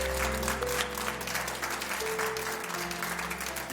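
Studio audience applause on a Spanish television programme, steady dense clapping over a low background hum, moderately loud throughout the short stretch.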